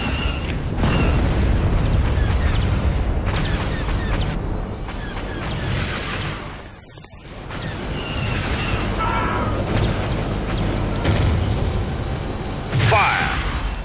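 Star Wars: Empire at War space battle sounds of energy blasts firing, with repeated booming discharges and mechanical rumble over a dense, loud backdrop, a brief lull midway, then more blasts and a sharp zap near the end.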